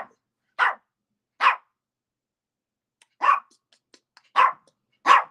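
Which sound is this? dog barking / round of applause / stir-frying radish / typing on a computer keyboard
dog barking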